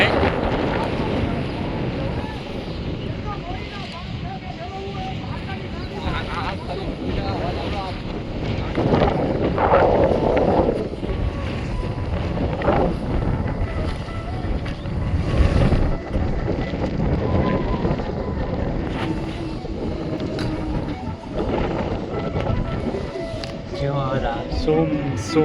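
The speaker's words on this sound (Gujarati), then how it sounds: "પવનનો અવાજ આવે" Wind buffets the microphone outdoors in a steady low roar with gusts swelling around the middle, while people talk over it.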